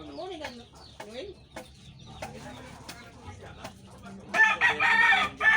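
A rooster crows in rising and falling calls near the start, with scattered clucks and a louder, harsher burst of crowing toward the end amid a lively outdoor gathering.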